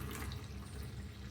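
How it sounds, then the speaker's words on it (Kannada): A little water is poured into a spiced mixture with ajwain for Davanagere mirchi mandakki, making a faint, soft, steady trickle with no talking. "ಇದನ್ನು ಚೂರು ನೀರು ಹಾಕೊಳ್ಳೋಣ."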